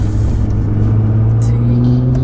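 A Nissan GT-R accelerating hard fills the cabin with a steady, loud, low engine drone and rumble that holds throughout the short stretch.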